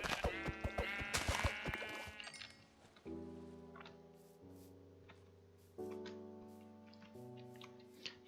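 Sheep bleating in the video game Minecraft, a few quick wavering bleats at the start, then a string of soft chiming game tones and clicks, with no talk.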